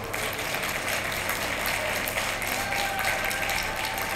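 Applause from the video game The Night of the Rabbit: a continuous, fairly quiet wash of clapping, steady and even throughout with no voices over it.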